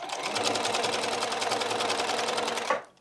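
Sewing machine stitching a quilt block square, a close, steady rapid clatter of the needle running continuously for nearly three seconds before stopping abruptly.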